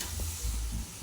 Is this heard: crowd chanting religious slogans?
no